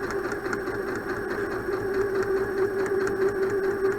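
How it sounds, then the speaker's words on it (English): A sewing machine runs steadily while stitching along a boning channel, its motor giving a continuous, even whir at a constant pitch throughout, close and alone. "reverse, sew all the way along"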